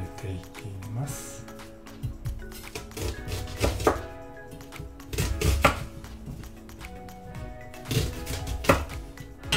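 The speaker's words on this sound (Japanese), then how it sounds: "半分に切った玉ねぎをさらに4等分して鍋に入れていきます。" A knife chops an onion into pieces on a board for beef barley soup, with repeated close thunks at an irregular pace over background music and soft speech.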